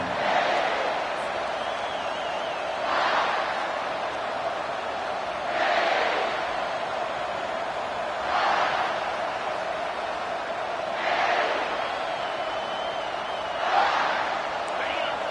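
Stadium crowd in the College Football 25 video game, a steady broad roar that swells in loud surges every few seconds, with a play-by-play commentator talking over it throughout.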